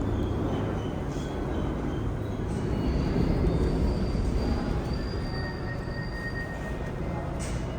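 A New York subway train rumbles loudly with a steady roar of wheels on track, faint metallic squeals drifting above the noise.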